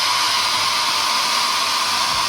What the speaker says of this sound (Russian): Теперь берем фен, включаем на самый горячий.